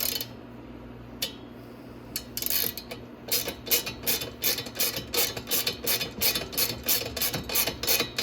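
Ratcheting clicks from a wrench tightening an exhaust bolt on a Grizzly ATV, starting as sparse isolated clicks and then settling into a steady rapid series of close, crisp ticks.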